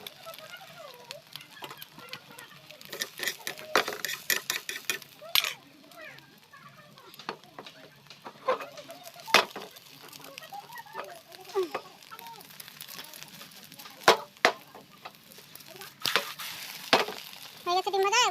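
An egg frying in a pan and being flipped, with a light sizzle under scattered clinks and scrapes of a spatula, close by, while someone talks over it.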